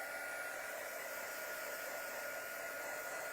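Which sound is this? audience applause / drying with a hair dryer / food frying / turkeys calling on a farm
drying with a hair dryer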